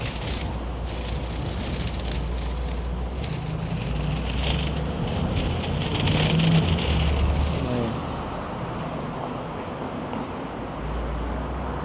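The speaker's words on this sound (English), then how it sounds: "Carrying my gimbal in a bag and the wind is just flapping it all over the place." Wind flapping a bag that holds a camera gimbal on a Toronto city street, a steady broadband rustle and buffeting running throughout, loud and close, with faint traffic beneath.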